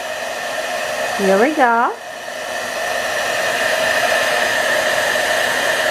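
A heat tool embossing stamped ink on a greeting card blows with a strong, steady, close-up whoosh that runs unbroken throughout, while a voice briefly speaks near the start.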